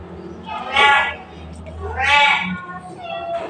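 Pet cats meow twice in close succession, long drawn-out cries near the listener, with a third softer meow trailing at the end while someone talks quietly.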